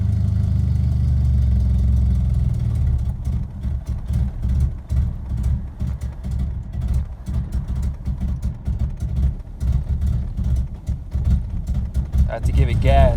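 A Nissan KA engine with a fuel pressure regulator fault idles loudly and close by, its steady rumble dipping and rising unevenly while someone talks over it.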